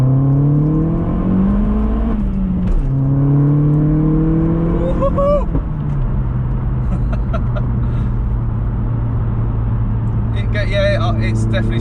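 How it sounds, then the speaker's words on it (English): A Vauxhall Astra H VXR's engine and exhaust rise and fall through gear changes while driving, a loud in-car drone with rising tones and a steady cruise afterward. "that exhaust sounds awesome."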